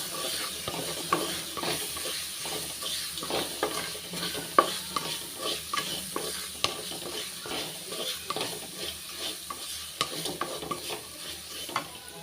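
Grated coconut with asafoetida is stirred and sautéed in a pan, giving a soft continuous sizzle broken by repeated scraping of a spoon against the metal, close and moderately quiet.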